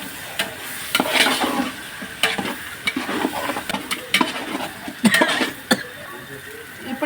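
Chunks of meat being stirred into biryani masala in a pot, with repeated scraping and stirring strokes over a low frying sizzle, close and fairly loud, with no talking.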